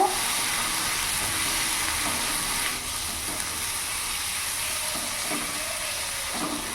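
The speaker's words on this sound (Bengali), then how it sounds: "লঙ্কা গুঁড়ো দিয়ে দিলাম জিরে গুঁড়ো দিয়ে দিলাম আর ধনে গুঁড়ো দিয়ে দিলাম ভালো করে মিশিয়ে নেব" Chilli, cumin and coriander powder frying in a pan while being stirred, heard as a steady close sizzle and hiss running throughout, with faint scraping stirs and no talking.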